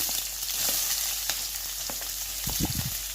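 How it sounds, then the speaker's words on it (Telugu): Onion and green chillies fry in a pan for a jowar flour weight-loss soup. A loud, dense sizzle holds steady throughout, with a few faint ticks and a short scraping stir near the end. "పచ్చిమిర్చి ఇది కొంచెం ఫ్రై చేసుకోవాలని"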